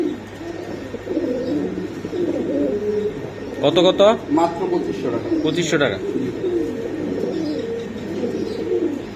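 Soft pigeon cooing runs throughout beneath a man's speech, with a few brief higher chirps and rustles midway.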